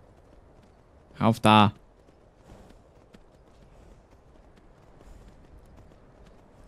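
Horse hooves in the video game Skyrim, a faint soft patter of steps under a quiet background, with a brief loud spoken burst early on.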